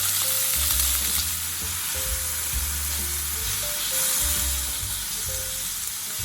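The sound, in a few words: thinly sliced beef frying in oiled pan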